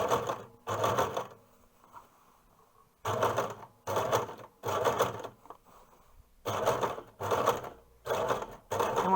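A sewing machine stitches a curved seam on a single-layer hood in a series of close, loud bursts of rapid mechanical whirring, separated by brief quiet pauses, with no talking.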